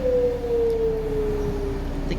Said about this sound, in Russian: Вот такие сирены опять завыли.